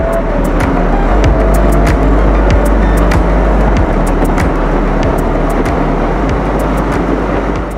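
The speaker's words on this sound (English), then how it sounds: "That's the end of our drive out in the 124 Fiat 124 Spider" A Fiat 124 Spider with a 140-horsepower engine drives along, its loud steady engine drone and road rumble filling the cabin, with faint regular ticks over the continuous roar.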